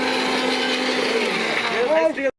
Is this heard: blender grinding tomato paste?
yes